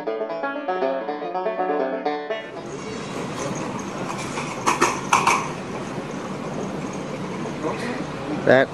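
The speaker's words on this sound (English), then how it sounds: "That is the sound of a silent train." A short melodic chime, then the steady rumbling of a moving train with occasional metallic clacks and rattles.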